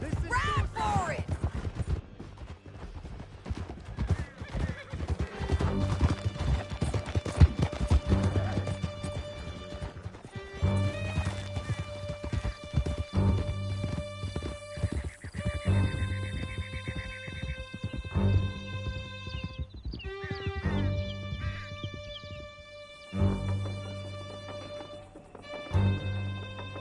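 Horses gallop through a canyon in Red Dead Redemption 2, steady clip-clop hoofbeats and occasional whinnies running under an orchestral game score throughout, fairly loud and continuous.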